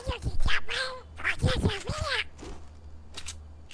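A voice imitates Donald Duck's raspy, quacking cartoon speech in a short burst of squawky, nasal syllables, close and fairly loud, then trails off into quieter sounds.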